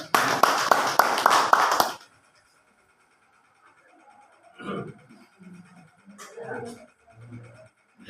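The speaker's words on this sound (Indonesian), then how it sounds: "Tepuk tangan dulu buat 4 narasumber." An audience claps for four speakers at a primary-school learning talk show in Majalengka, a loud burst of applause for about two seconds that cuts off into near silence with scattered quiet voices.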